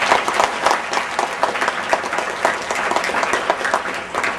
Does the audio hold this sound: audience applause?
yes